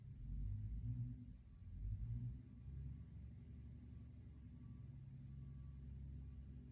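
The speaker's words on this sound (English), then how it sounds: "if you hear a lot of beeping and trucks, that's what it is" Heavy trucks pass outside, a low rumbling engine drone that swells twice early on, then settles into a steady, muffled background roar with no talk.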